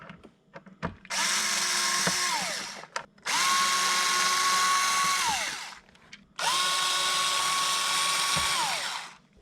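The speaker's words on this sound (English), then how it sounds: "These T15 Torx screws, we got to remove them so that we can remove the center console cover." Power driver backing T15 Torx screws out of a Corvette center console cover, three loud whirring runs of about two seconds each, the motor pitch dropping as each run ends, short pauses and small clicks between them.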